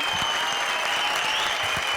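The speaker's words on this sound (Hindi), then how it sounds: "मोना सिंह के लिए जोरदार तालियां।" Steady, dense applause from a comedy show studio audience, clapping continuously and loudly throughout.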